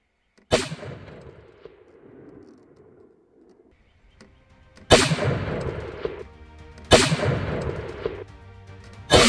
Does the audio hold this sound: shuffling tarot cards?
no